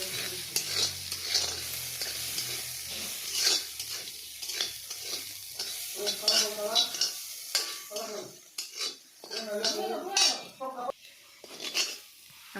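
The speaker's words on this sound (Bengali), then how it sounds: "প্রথমে কড়াইতে তেল দিয়ে সিদ্ধ করা ডালগুলো ভেজে নিব" Boiled lentils frying in oil in a wok with salt and turmeric, a close sizzle under repeated clattering strokes of a spatula scraping the metal, the stirring uneven and continuous with no one speaking.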